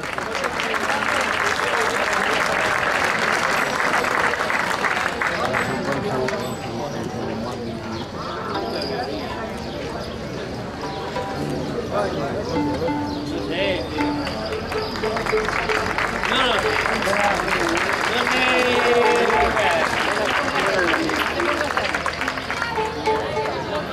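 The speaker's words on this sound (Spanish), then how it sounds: "Ese aplauso." Audience at a prize-giving ceremony for the Mayos cross-decorating contest applauds a third-place winning parish cross, a long steady wash of clapping from a crowd lasting throughout, with voices mixed in.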